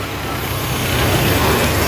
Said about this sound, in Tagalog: Mga idol, traffic, traffic dito.